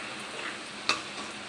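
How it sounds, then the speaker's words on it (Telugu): Okra (bendakaya) frying in a pan on high flame gives a faint, steady hiss, broken once by a sharp clink of a utensil against the pan. "ఇలా మనం దగ్గర నించొని హై ఫ్లేమ్లో పెట్టుకొని బాగా ఫ్రై చేసుకోవాలండి"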